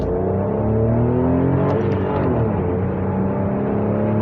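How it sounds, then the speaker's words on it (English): A Toyota Aygo X city car with its roof off circles a roundabout, its small engine giving a steady, close drone that rises and falls slightly as it corners, with no voices over it. "I'm racing around a roundabout like a city car."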